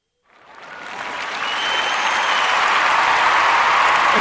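Arena crowd at a wrestling event breaking into applause and cheering, swelling quickly from silence into a dense, sustained roar of clapping that holds loud and steady.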